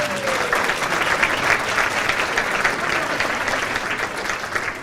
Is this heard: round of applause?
yes